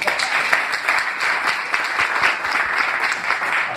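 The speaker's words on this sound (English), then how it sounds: "Give him a round of applause" An audience at a business speaking event breaks into steady, loud applause, with dense continuous clapping that lasts throughout and no pauses.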